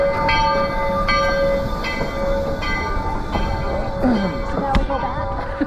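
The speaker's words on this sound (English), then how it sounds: "Here comes our locomotive." Steam locomotive of the Georgetown Loop Railroad approaching, a steady loud rumble with a sustained whistle-like tone and repeated clanks and hisses throughout, no talk.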